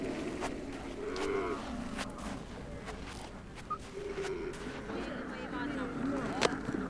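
Cattle low and moo on a nomadic camp in the Gobi Desert, drawn-out bellows rising over a steady outdoor rumble and wind, with a voice speaking over parts of it.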